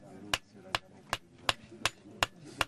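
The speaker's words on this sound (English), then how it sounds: "they hammer out the blade" A metal blade being hammered out on an anvil by African smiths, with seven sharp, evenly spaced ringing blows about every third of a second, close and loud over a low background.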